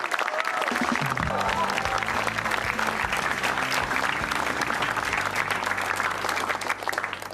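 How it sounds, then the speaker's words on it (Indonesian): Sustained audience applause fills a stand-up comedy show, dense clapping from a crowd running steadily throughout, with faint music underneath. "Bagus, tepuk tangan lagi."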